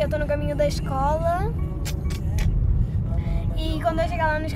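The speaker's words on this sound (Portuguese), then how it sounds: "Já tô aqui no carro, eu tô no caminho da escola." Interior of a car on the way to school, with a steady low engine and road rumble throughout while a person speaks with lively, sing-song intonation over it.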